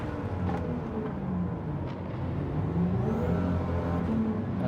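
A six-cylinder car engine in a racing video game drones and builds under acceleration, a steady, dense rumble that climbs gradually in pitch, with no talking over it.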